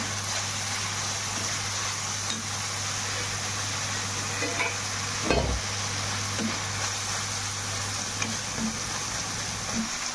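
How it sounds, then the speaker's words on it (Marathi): Roasted peanuts frying in hot oil, a constant close sizzle running evenly throughout with a brief stir or clatter midway and a low steady hum underneath. "मस्त शेंगा भाजलेली आता तेलात टाकल्यामुळे"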